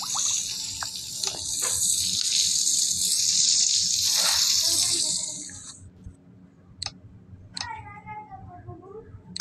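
Tap water runs steadily and loud for about five seconds during a bath, then cuts off, leaving quieter splashes and a few brief taps.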